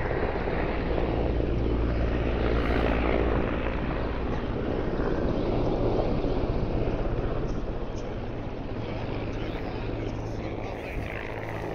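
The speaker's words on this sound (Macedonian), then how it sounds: "Овде зад мене е хеликоптерот." Firefighting helicopter over a wildfire near Ajvatovci, a steady loud broadband rotor and engine roar held throughout at close range, with voices speaking over it.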